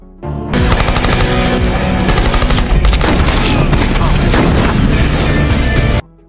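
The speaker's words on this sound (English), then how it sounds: "he shows up with his old machine gun and opens fire on them" Machine gun fire from an action film: a loud, sustained burst of rapid automatic shots that runs unbroken for about five seconds, dense and close, with faint voices underneath.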